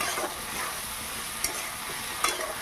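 A ground paste of green chili and poppy seed is lightly stirred into bitter gourd and potatoes in a frying pan, giving a gentle continuous sizzle with two brief, distinct spatula scrapes. No one speaks.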